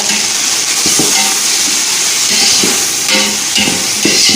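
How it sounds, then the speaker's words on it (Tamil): Tomato and mint being sautéed in a pan give a loud, close, steady sizzle and hiss, with scraping stir strokes recurring throughout and no voices. "புதினா போட்டு நல்லா வதக்கணும்."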